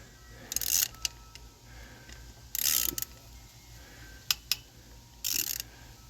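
Wrench loosening bolts on a 2007 Honda Rebel motorcycle during clutch work: several short bursts of metallic ratcheting and clicking, with brief sharp clanks between them over a low, quiet background hum.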